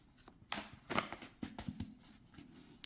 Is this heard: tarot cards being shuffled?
yes